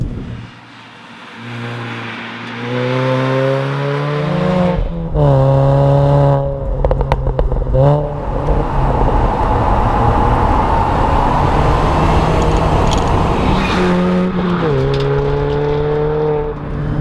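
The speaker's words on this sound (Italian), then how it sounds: "un centrale diretto che le regala questi caratteristici scoppietti" Mini Cooper JCW R53 GP with a straight-through center exhaust section, its engine revving up and down loudly and close, with popping exhaust crackles between pulls.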